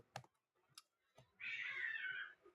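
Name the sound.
cats meowing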